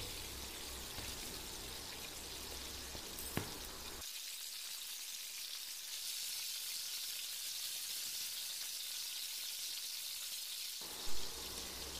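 Jackfruit pieces frying in very hot oil over a medium flame, a steady soft sizzle that drops lower and quieter midway before swelling again, heard alone without talk.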